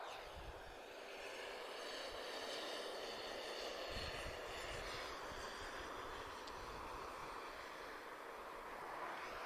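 A British Airways Airbus A320neo airliner at Lisbon Airport, a steady distant jet engine roar with a broad rumbling hiss that holds level throughout, no voices.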